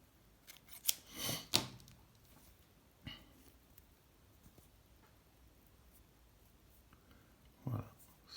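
Sharp scissors snip thread during fly tying for a minnow-imitation streamer, two quick close cuts followed by faint handling ticks and a final snip.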